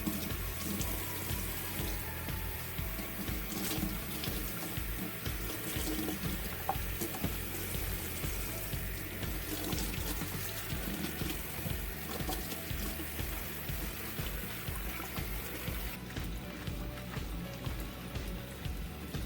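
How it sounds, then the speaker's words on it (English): Tap water runs steadily into a sink as salted baby carrots are rinsed, a constant close splashing rush with faint clatter throughout. "Now we're going to rinse it one more time. Just to make sure all those salt is gone."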